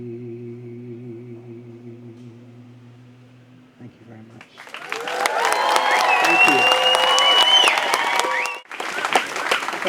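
Loud audience applause breaks out after a song at an outdoor nature event, a dense steady patter of many hands lasting several seconds and dipping briefly before resuming, following a quieter stretch of sustained tonal music.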